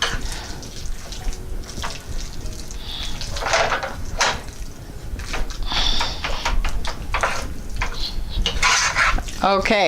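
A utensil stirs seasoning into milk in a frying pan for a homemade spaghetti meat sauce, with repeated scraping strokes and light clinks against the pan, close and uneven in rhythm.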